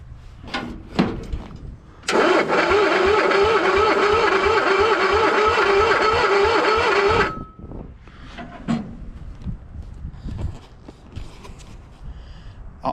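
A 1965 Cushman Truckster engine cranks over with the clutch pushed in, a loud, fast, steady whirring that runs about five seconds without catching, bracketed by quieter clicks and shuffling.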